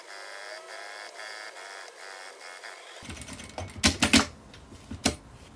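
A sewing machine with a presser foot stitching a half-centimetre seam, first a smooth steady motor whir, then a stretch of irregular clacking and thumps as the stitching changes and reverses.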